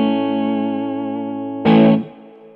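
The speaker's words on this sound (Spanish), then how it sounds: "Spring Reverb." Guitar chord played through an Orange Pedal Baby 100 amp head with preamp on and spring reverb rings loudly and sustains, then a sharp strummed burst cuts in and decays with a reverb tail.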